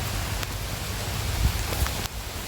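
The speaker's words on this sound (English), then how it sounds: "It's really raining now." Heavy rain falling outdoors on a wet dog walk at a nature reserve, a steady dense hiss of drops on surfaces and foliage with a couple of louder nearby splats, no talking.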